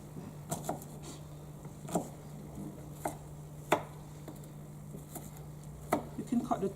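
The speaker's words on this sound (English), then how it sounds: "You can cut the onion a bit chunky, your desired shape or size." A knife chopping a peeled onion into chunky pieces on a board, a handful of sharp, separate cuts at an uneven pace against steady low hum, with no talking.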